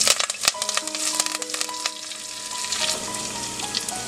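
Mustard seeds, cumin seeds, chopped garlic and curry leaves crackle and sizzle in hot oil, a bright busy spatter with sharp pops and some clinking of a utensil against the pan, close up.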